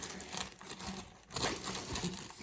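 A plastic bag covering a flashlight crinkles and rustles up close in irregular bursts, louder partway through.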